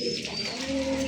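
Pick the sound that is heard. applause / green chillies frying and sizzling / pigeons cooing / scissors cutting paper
pigeons cooing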